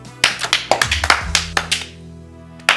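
A short burst of hand clapping at a comedy showcase: a run of sharp, fairly close claps, ending with a lone clap after a brief pause. No one speaks.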